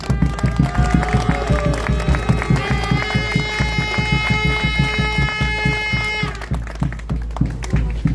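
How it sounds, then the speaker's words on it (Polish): A protest crowd applauds in a steady, dense clatter of many hands, loud and close, with rhythmic thumps underneath and a sustained tonal hum or whistle running through the middle. "Wielkie brawa dla tych 20 posłów."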